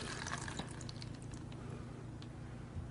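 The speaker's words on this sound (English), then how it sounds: "we'll just pour some water over it there" Water poured over a powered-on Motorola Defy phone, a steady wet splashing and trickling held close up and moderately loud for about three seconds, with no talking.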